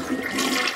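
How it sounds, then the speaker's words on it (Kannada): A toilet flush rushes briefly and close by, a short watery whoosh with no talk over it. "ಫ್ಲಶ್ ಮಾಡ್ತಿರೋ ಸೌಂಡ್ ಬಂತು"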